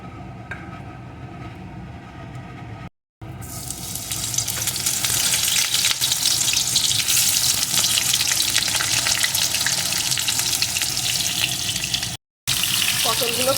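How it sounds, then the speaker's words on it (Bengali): Salted pointed gourd (potol) pieces frying in hot mustard oil, a dense continuous sizzle that swells loudly after the pieces go in and holds steady, with brief drops to silence. "এখন আমি লবণ মাখানো পটলগুলোকে এই তেলের ভিতরে দিয়ে দেবো"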